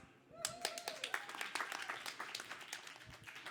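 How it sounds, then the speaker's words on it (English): An audience clapping at a comedy show, a burst of scattered, crisp hand claps that builds quickly and continues unevenly, with a brief voice heard at the start. "you should clap even louder"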